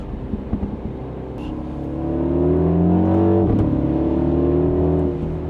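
A MINI John Cooper Works Countryman engine revs loudly and close, its droning note climbing and falling, with a couple of brief exhaust pops cracking through.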